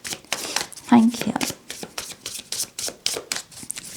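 A tarot card deck being shuffled by hand, with repeated quick riffling and flicking card sounds close to the listener, while a voice speaks over the shuffling throughout.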